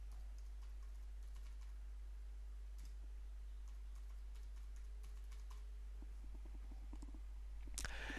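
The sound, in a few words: typing a database user password on a keyboard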